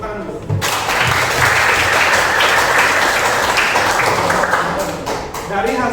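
A room full of people clapping, dense and sustained for several seconds before tapering off, with a voice briefly audible at the start.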